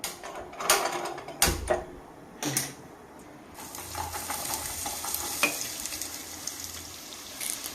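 Onions with a little salt and curry leaves sizzle steadily in a hot pan while a spoon scrapes and stirs with a few sharp clanks, close up and with no talking.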